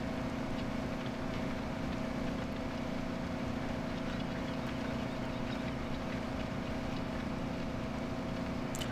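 Steady low tractor engine drone in Farming Simulator 2017, a constant idling hum with no change in pitch throughout.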